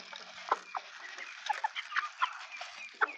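Soft, scattered clucks and peeps from a group of chicks, irregular and fairly close, over a faint rustling background.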